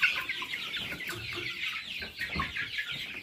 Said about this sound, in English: come out and check chickens